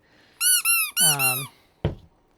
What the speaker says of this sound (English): these two that I had done earlier are squeaking very nicely